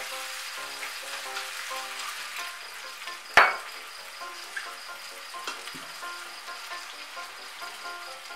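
Water poured over spiced vegetables in a hot pan for a Bengali pumpkin dish sets off a loud, sharp burst of sizzling that then settles into a steady, dense fry hiss with faint stirring scrapes.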